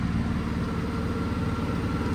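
A tractor engine pulls a plough through heavy soil, a steady low rumbling drone with a rapid mechanical pulse, loud and constant throughout.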